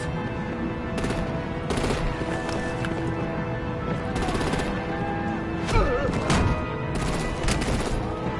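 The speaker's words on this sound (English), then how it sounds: "Break out the artillery and disable their vehicles!" Rapid bursts of artillery and automatic gunfire in the Batman: The Enemy Within video game, loud and dense across the whole stretch, firing in repeated volleys with a game soundtrack underneath.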